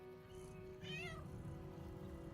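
A cat in Baldur's Gate 3 gives a clear drawn-out meow over a steady low game ambience and background music, with no talking.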